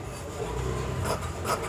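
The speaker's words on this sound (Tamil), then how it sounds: "அதுக்கு இப்போ நான் அந்த ஃப்ளவரை மட்டும் கட் பண்ணி எடுக்கிறேன்." Scissors cutting a fabric flower motif out of cloth for a patchwork blouse, giving soft close rasping snips and rustling in a short quiet burst with no talking.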